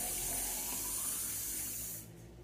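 Room-temperature water pours into a basin for homemade soap, a steady close hiss of flowing liquid that stops abruptly after about two seconds.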